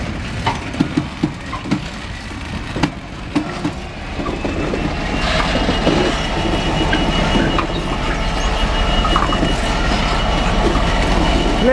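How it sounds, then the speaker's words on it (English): Freight wagons being shunted near a Freightliner terminal, rolling past loud and close with a steady heavy rumble, rhythmic wheel clatter and faint squeals, preceded by a few sharp clanks. "Little bit of shunting."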